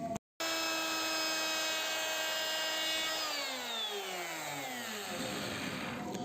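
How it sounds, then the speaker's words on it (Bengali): A wood router with a side bit shapes a dining chair part, giving a loud, steady high-pitched whine that drops in pitch as the motor spins down near the end. "আমরা রোটার মেশিন দিয়ে সাইডের বিটটা চালিয়ে নিচ্ছি"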